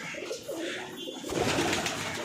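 Pigeons in a loft, including high-flying birds, coo softly and repeatedly, with a fuller burst of cooing in the second half against a steady indoor background.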